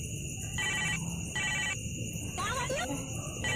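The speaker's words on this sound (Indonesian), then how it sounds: "Ada telepon?" A telephone rings in a repeating pattern of short electronic trills separated by gaps, heard under background noise, while a person speaks partway through.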